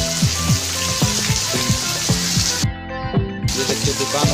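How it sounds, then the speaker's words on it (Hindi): Steady rain hiss with a rhythmic musical beat running underneath; the rain is continuous and fairly loud throughout, with a brief dropout near the end. "इतना बारिश आ रहा है दोस्तों, रुकने का नाम ही नहीं ले रहा है।"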